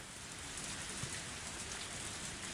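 Steady rain falls in Higurashi: Matsuribayashi, a dense, even hiss of drops on surfaces that is continuous and fairly quiet, with no voices.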